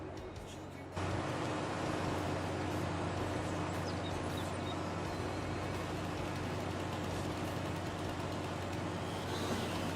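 A truck engine from a Farming Simulator 22 engine sounds mod kicks in after a second of quiet and holds a loud, steady low drone with a constant hum, under faint background noise.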